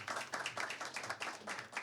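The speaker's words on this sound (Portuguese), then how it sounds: "Salva de palmas." Scattered applause for a speaker at a panel on educational management, a small group clapping unevenly in quick uneven bursts, quiet and fairly close.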